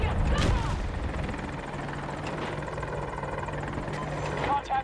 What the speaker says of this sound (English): Chopper above us